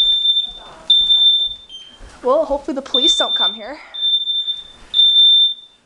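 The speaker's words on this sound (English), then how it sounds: "alarms just went off. We're having bacon and my dad burnt it." A household smoke alarm, set off by burnt bacon, sounds loud, close, piercing beeps in a steady repeating pattern, with people talking over and between the tones.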